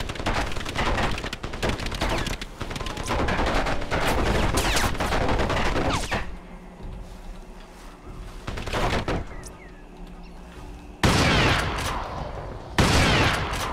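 Gunfire in the shooter game Crysis: dense bursts of rapid automatic shots and booming impacts, loud and close, broken by a quieter lull before more sharp bursts return.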